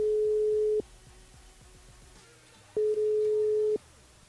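Telephone tone heard while a radio host calls a listener live on air, two steady electronic beeps, one short and one about a second long, separated by a pause with faint low background hum.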